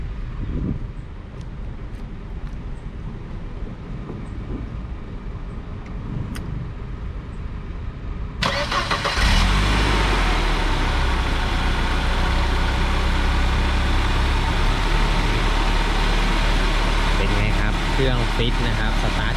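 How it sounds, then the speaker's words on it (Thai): A 1997 Mercedes-Benz W202 C200 engine cranks and catches partway through, then settles into a steady, close idle that continues to the end; quiet room noise before it. "เดี๋ยวผมจะมาสตาร์ทให้ฟังเสียงเครื่องยนต์กันก่อนเลยนะครับผม"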